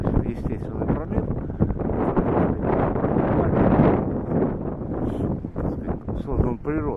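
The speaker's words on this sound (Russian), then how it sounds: "Ветер сегодня сильный, поэтому часть моих комментариев может быть не слышно." Strong wind buffets the microphone on the shore of the Baltiysk sea canal, a continuous roaring rumble with gusty swells, while someone talks underneath it, partly drowned out.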